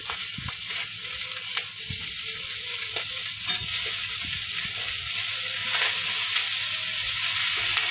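Greens fry in a hot pan with potato and shrimp, a continuous close sizzle broken by repeated spatula scrapes and knocks as the mixture is stirred, with no talking.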